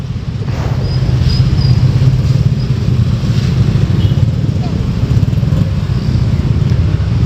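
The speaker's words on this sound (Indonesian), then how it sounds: "Situasi macet." Traffic jam on the Makassar–Maros road, with cars and motorcycles idling and creeping along in a steady, close engine rumble that stays loud throughout.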